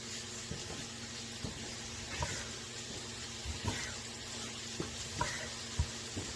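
Thin steak slices cooking in a hot pan for cheesesteak pizza, a low steady sizzle punctuated by occasional scraping and stirring knocks, fairly quiet.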